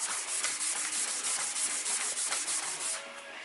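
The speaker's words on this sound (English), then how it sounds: "start with a low grit sandpaper" Low-grit sandpaper rubs back and forth by hand across a solid surface countertop edge in quick, steady strokes, a coarse scratchy hiss that eases off at the end.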